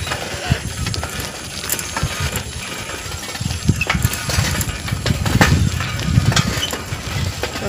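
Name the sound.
bicycle being ridden, chain and freewheel ratcheting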